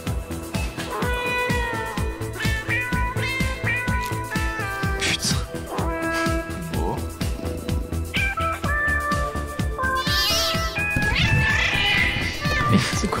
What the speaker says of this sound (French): Les chats, quoi.